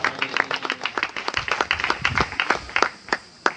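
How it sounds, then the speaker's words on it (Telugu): A congregation claps in praise at a church gathering, producing a crowd of sharp, close, overlapping hand claps in an uneven burst that thins out toward the end. "చప్పట్ల దేవుని స్తుతిద్దాం"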